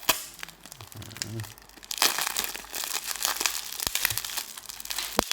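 Tight plastic wrapping and packing tape on a parcel crinkle and crackle in bursts, fairly close and moderately loud, with a few sharper cracks and rustling handling noises throughout.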